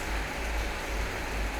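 Rain falls in a steady, dense hiss outdoors, with low rumbling underneath and no talk.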